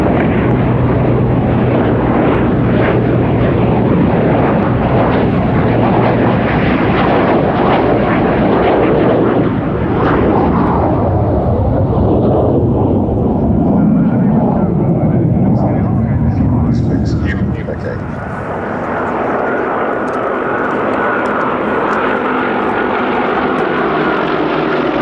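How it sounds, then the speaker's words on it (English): Polikarpov I-16 fighter planes flying in to land at an airshow display, a loud, sustained propeller engine roar that swells and shifts in pitch as they pass, easing briefly near the end before continuing. "After a stunning display, the Polikarpov I-16s approach for their landings"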